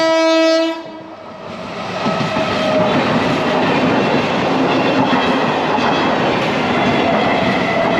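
A train horn blares briefly, then a train passes at a railway level crossing on the road from Kolkata to Darjeeling with a loud, steady rumble and rhythmic clatter of wheels that lasts throughout.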